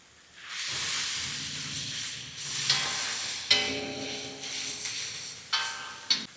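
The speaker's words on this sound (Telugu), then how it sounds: "ఇప్పుడు పచ్చిమిర్చి మగ్గిన తర్వాత గోంగూర వేసుకుందాం" Gongura leaves dropped into a pan of green chillies frying in oil, giving a steady broadband sizzle and hiss with a few sharp clatters and stirring bumps, close and moderately loud, no voices.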